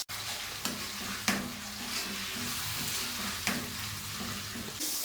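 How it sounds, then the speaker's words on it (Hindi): Tomato paste sizzling and frying in a pan for beef karahi, a steady close sizzle with occasional sharp clinks of a spoon stirring against the pan. "टमाटर का पेस्ट डालकर हम अच्छे से भून लेंगे"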